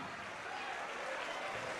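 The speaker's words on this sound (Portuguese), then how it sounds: "vamos aplaudir mais" A church congregation applauding steadily, a dense broadband wash of clapping that fills the room at a moderate, even level throughout.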